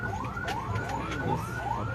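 An ambulance siren wails in repeated rising and falling sweeps, steady and fairly loud over a low engine rumble, with no voices.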